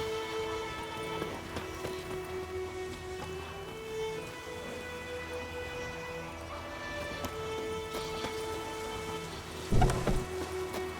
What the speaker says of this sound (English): It's raining, pouring